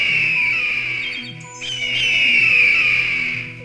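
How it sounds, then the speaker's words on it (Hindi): A loud, shrill hawk cry held almost continuously, dipping briefly midway before rising again, with a low musical backdrop. "उन दोनों बाजों की आवाजें भी काफी तेज थीं।"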